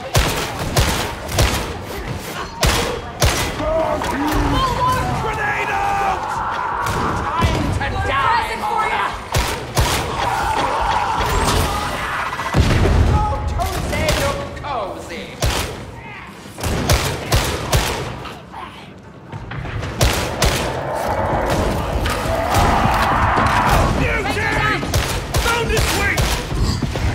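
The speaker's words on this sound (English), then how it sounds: "Oh, grenade out!" Gunfire and a grenade blast in Darktide, with a Kantrael MG XII lasgun among the weapons: dense, loud, nearly continuous volleys and heavy thumps over about 27 seconds, with brief lulls and shouted voices mixed in.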